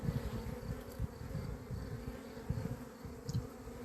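Dense, continuous buzzing of a honey bee swarm gathering around a hive in late April, a steady low hum with fluttering pulses from many wings close by, no voices.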